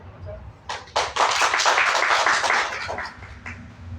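Audience clapping together in welcome for a guest at a community gathering on women's empowerment, a dense burst of applause rising after a brief pause, then fading under a speaker's voice.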